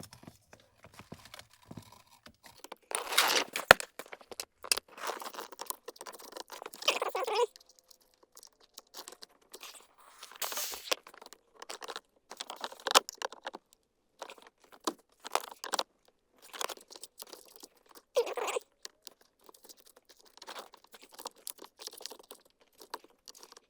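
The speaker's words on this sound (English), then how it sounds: "I'm just gonna put my screwdriver back there and try to just move some of that tape as much as possible" Metal screwdriver scraping and prodding at tape inside the tight space of a 2003-2008 Lexus RX330 air-conditioning system, heard as faint, scattered crinkles and scratchy taps with pauses between the bursts.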